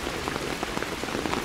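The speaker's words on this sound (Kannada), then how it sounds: "ಈ ಮಳೆ ಎಲ್ಲೋದ್ರೂ ನಮ್ಮ ಹಿಂದೆ ಬಿಡಲ್ವಲ್ಲ" Heavy rain pours steadily onto surfaces while travelling in France, a dense, close, continuous patter of drops with no voices.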